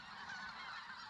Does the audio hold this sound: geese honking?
yes